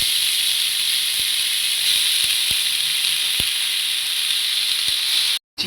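Red amaranth greens fry in a pan with softened onion and a little turmeric, giving a loud, steady close-up sizzle and hiss with scattered sharp pops. The sound cuts out briefly near the end.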